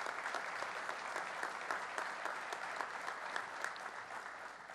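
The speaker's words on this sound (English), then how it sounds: "Let's give Kenneth, Juliana, Margaret, and Edward a round of applause." Steady applause from a ceremony audience at Buffalo State honoring first responders and community heroes, dense continuous clapping at moderate level without pause.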